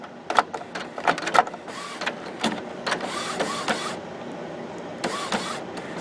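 Epson WF-7610 inkjet printer starting up and initializing, giving irregular mechanical clicks and clunks followed by whirring motor passes and carriage movements, close and fairly loud.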